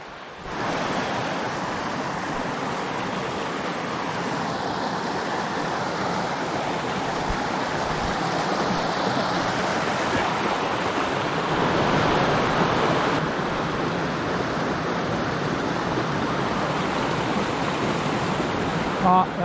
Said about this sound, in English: And there's the brook.